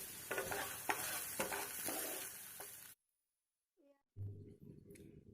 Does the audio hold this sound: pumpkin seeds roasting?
yes